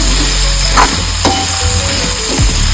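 Tomato masala with garam masala and coriander powder sautés in a pan, a loud close sizzle with a few scraping stirs and knocks of a spatula, no talking.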